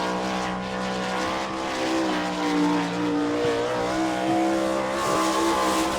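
An All Star Circuit of Champions sprint car at Attica, Ohio, roars loudly at full throttle as it takes the green flag to qualify, the engine note rising and falling steadily without pause.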